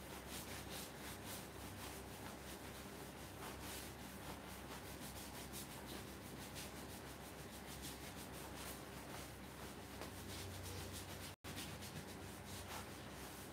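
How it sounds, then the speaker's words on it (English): Steady, continuous abrasive rubbing as a waxed wooden fruit bowl is sanded on a lathe, a constant broadband hiss running unbroken and close up with one brief dropout near the end, no voices. "So, rubbing this wax in now. I'll just keep the dust down. And start to sand."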